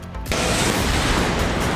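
A gas cylinder on a burning truck in Loni, Ghaziabad explodes with a sudden, very loud blast that swells into a sustained, roaring rumble.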